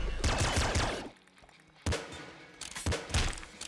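Enemy gunfire in the video game Nuclear Throne: loud bursts of rapid shots and crackling volleys, a dense barrage up front, a brief lull, then two more sharp clusters of shooting.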